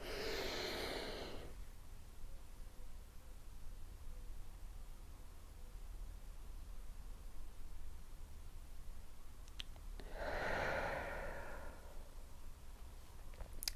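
During a lymphatic drainage relaxation exercise, a person takes two slow, audible breaths close to the microphone, one at the start and another after a long quiet gap, over faint background hiss.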